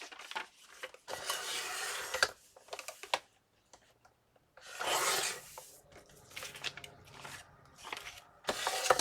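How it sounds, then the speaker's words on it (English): Paper being trimmed for a Christmas accordion booklet, with quiet scraping and rasping strokes of the cutter in short bursts and small ticks between them, close by in a quiet room with no voices. "Let me trim a little bit off the bottom."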